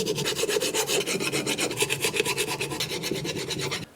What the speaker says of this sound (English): we at least can use a file to get the rest off and then paint it